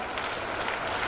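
Children at a school arts festival clap continuously, a dense, steady patter of applause from a crowd with no breaks.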